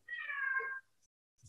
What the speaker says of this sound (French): Je vous présente mon chat qui a grandi.